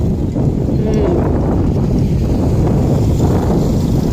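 Strong wind buffets the microphone, a steady low roar that rumbles throughout with no clear voices.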